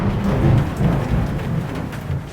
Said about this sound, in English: There's lightning, there's rain, and there are puddles on the ground everywhere